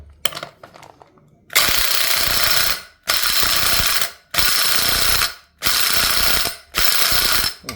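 Four loud bursts of a pneumatic impact wrench hammering, each lasting about a second with short gaps between, preceded by quieter clicks and clatter.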